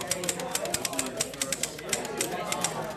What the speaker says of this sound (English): It's a manual typewriter. It's very heavy.